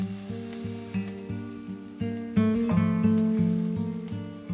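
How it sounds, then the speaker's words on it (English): Garlic and ginger sauté in a hot pan with a loud, close, steady sizzle, broken by a few rhythmic stirring scrapes and over a faint tonal hum in the background. "Sauté for a couple of minutes."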